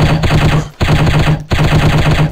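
Rapid bursts of automatic gunfire from the shooting video game Striker, a commando mission against terrorists, loud and dense with two brief gaps between sustained strings of shots.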